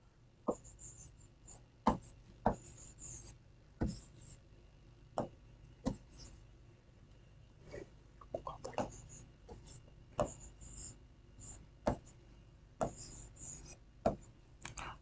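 Pen or chalk writes on a board or paper with a string of sharp, irregular taps and short scratchy strokes, close and fairly quiet against a faint steady hum.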